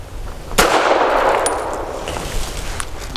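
A Tisas Tank Commander 9mm 1911 pistol fires a single loud, sharp shot, followed by a long, fading ringing tail with faint clinks afterward. No one talks.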